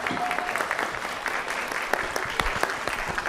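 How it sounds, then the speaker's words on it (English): A crowd at a workplace event for a take-your-children-to-work day gives a steady round of applause as a guest speaker is welcomed, dense clapping filling the hall throughout with a few sharper claps standing out. "if you could give a round of applause"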